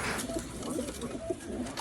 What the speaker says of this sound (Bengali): এটা খুবই ভালো, এটা ইম্পোর্টেড কবুতর